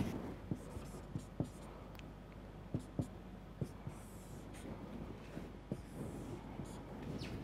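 Hand-writing equations, a pen or marker tapping and scratching in scattered light strokes over a faint steady background, quiet and close.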